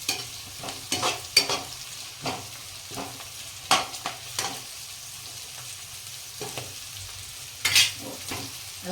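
Vegetables, including green beans in winter, being stirred and fried in a pot for vegetable pulao, with scattered scraping stirs and light sizzling at moderate distance, no voices.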